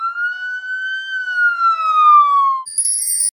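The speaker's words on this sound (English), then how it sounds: "Police car." A police car siren gives one long loud tonal wail that rises gently and then falls, followed by a brief bright electronic chime at the end.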